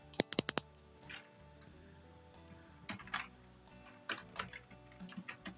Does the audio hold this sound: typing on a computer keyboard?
yes